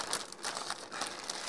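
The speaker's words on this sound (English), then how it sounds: "Only one plastic bag, which is nice." A thin plastic bag from a Hasegawa model aircraft kit crinkles and rustles steadily up close, with bright crackling bursts throughout and no voices.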